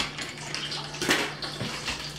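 Tap water running steadily over meat being rinsed with water and vinegar in a kitchen, with a brief louder splash and a couple of light clinks against the basin.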